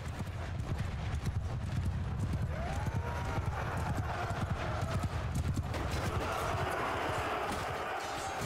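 Horse hooves gallop in a steady, dense clip-clop rhythm across the Mount & Blade II Bannerlord video game, loud and continuous with faint game ambience underneath.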